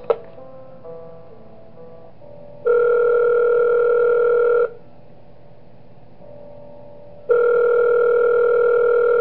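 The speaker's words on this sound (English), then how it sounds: "Alright, we get a phone call." Electronic telephone ringing from the Five Nights at Wario's video game, two long sustained ring bursts separated by a quieter pause, clear and alone with no talk.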